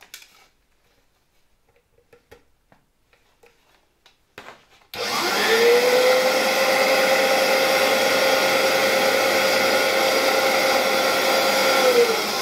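An old vacuum cleaner switches on after a few faint clicks and handling sounds, then runs with a loud, steady whine and broadband roar until the end.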